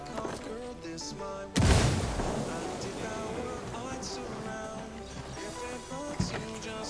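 A grenade blast in the tactical shooter Ghost Recon Wildlands: a sudden loud boom erupts partway through, then a long rumbling decay beneath game music and ambient noise, with a smaller thump near the end.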